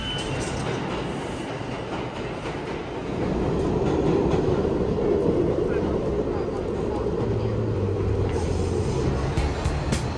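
A New York subway train rumbles through a station, swelling louder about a third of the way in, with faint wheel squeal toward the end.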